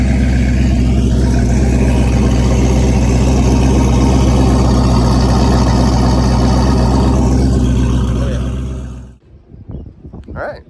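A turbocharged Ford Mustang V8 sits idling while warming up early in the morning, a loud, steady low rumble close by that cuts off abruptly near the end, leaving quiet handling noises.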